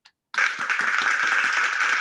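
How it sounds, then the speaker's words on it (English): Applause for a guest presenter at an online business meeting: a short burst of dense, steady clapping that starts abruptly and continues at an even level, close and fairly loud, with no talk over it. "Let's give a big round of applause to Josh"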